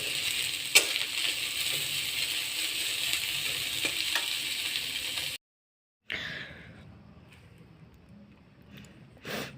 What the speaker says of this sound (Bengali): এইগুলোকেও সব একটু হালকা করে তেলে নেড়ে ভেজে নেব।